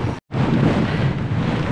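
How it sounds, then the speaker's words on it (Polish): Strong wind buffets the microphone outdoors on a gravel bike trip around the Tatra mountains, a loud continuous roar broken by one brief dropout near the start. "Ktoś wyłączy ten wiatr!"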